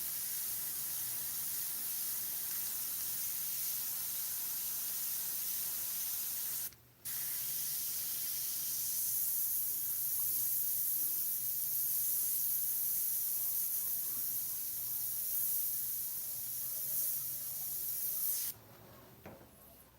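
Airbrush spraying Createx paint onto synthetic paper, a soft continuous hiss of air and paint mist close by, briefly interrupted once and fading slightly toward the end.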